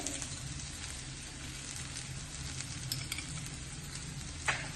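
Onion kachori filling sizzles steadily in a hot pan as spices go in, a close, continuous frying hiss with faint stirring texture and one brief clink near the end.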